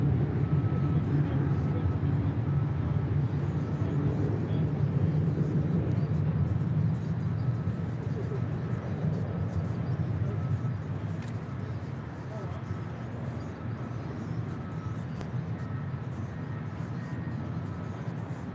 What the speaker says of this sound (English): That is Southwest Airlines Flight 3099 heading to Houston, Texas at a 737-800.